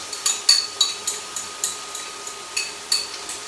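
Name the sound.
pre-soaked noodles stirred in a hot pan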